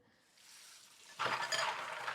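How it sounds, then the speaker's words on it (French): Plastic cake moulds swished and rubbed in a salad bowl of water and dish soap, a soft watery rustle that swells into louder sloshing and clinking partway through, close and alone. "Je vais les laver comme ça, je laisse tremper un petit peu et après je vais les rincer"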